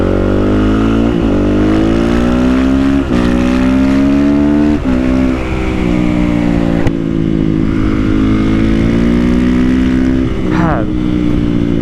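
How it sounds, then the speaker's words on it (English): Honda CRF450R supermoto motorcycle engine running loud and close while riding, its harmonic drone rising and falling with throttle changes and a few sharp revs. "as the bike gets hot while I ride"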